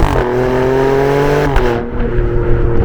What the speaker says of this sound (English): this thing has one of the nicest sounding exhaust notes I have ever heard